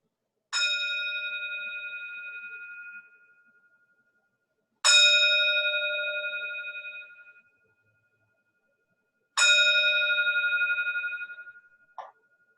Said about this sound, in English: So ring the bell 3 times at the beginning and 3 at the end.